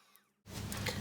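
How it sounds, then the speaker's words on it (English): Heat tool switching on to dry ink on a stamped card: near silence, then a sudden steady blowing whoosh that rises and holds loud and close. "I'm going to heat that with the heat tool just to dry it a little bit faster."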